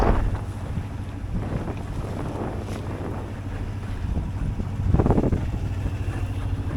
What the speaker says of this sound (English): Well, we're motor sailing, but it's increased my speed from something to something.